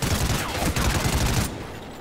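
Rapid automatic gunfire in the shooter game Call of Duty: Ghosts, a dense loud burst lasting over a second before cutting off abruptly.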